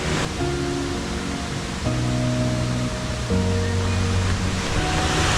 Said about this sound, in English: I can already see the curtain of water here through the trees of the jungle.